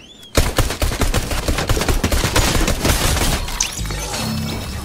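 Magnum pistol gunfire in the video game Halo Infinite cracks in a rapid, dense run of loud shots with layered in-game battle noise and impacts, then eases into a lower rumbling tone near the end.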